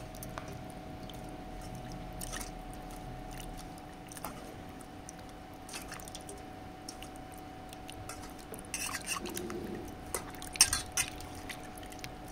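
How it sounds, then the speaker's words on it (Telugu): Something is rinsed by hand in plain water, giving soft, faint sloshing and squishing, with a brief louder splashing burst near the end over a quiet room hum. "మామూలు వాటర్తో కొంచెం కడగండి ఇలా"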